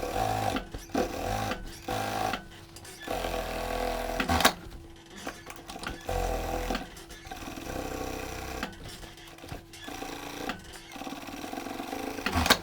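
Sewing machine running a double topstitch on 1990s-style denim jeans, steady whirring bursts with short pauses between runs, close and moderately loud, no talking.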